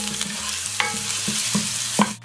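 Crushed garlic sauteed in oil, a close, steady sizzle broken by a few spatula scrapes and stirs in the pan.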